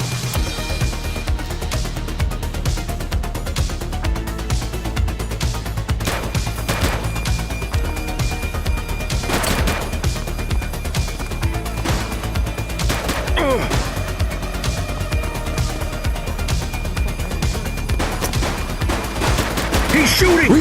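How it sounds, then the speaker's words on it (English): Dense, continuous gunfire in The Precinct police video game, sustained bursts and volleys layered over game music and effects, with crashes and a voice calling out. "He's shooting!"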